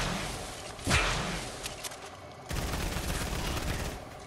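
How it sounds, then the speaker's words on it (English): Drum gun firing in Fortnite, a sustained loud burst of rapid automatic gunfire with a whooshing swish near the start, continuing steadily to the end without speech. "He's got the drum gun."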